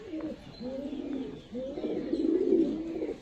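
Andha Phulshira pigeons in a loft coo in low, rolling calls, several soft coos one after another, close and clear with little else around.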